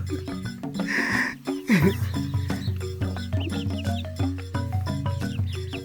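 Hens cluck and squawk among other poultry noises, with a low droning hum underneath throughout.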